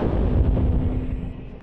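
Heavy rumbling boom from an M777 howitzer firing on the front near Bakhmut, Ukraine, a loud low blast with a long rolling decay that fades over a second and a half, no talk.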